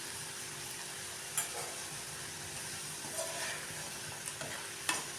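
Pieces of yam fry in hot oil for a snack, a soft steady sizzle running throughout with a few sharp scraping clicks as they are stirred and turned, fairly quiet and close, no voices.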